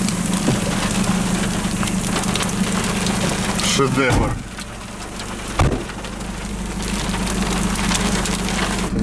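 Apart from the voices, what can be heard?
hail falling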